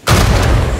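A single loud, close video game explosion, a suicide mummy blowing up in Uncharted 4, bursts out and rolls on as a heavy, rumbling boom.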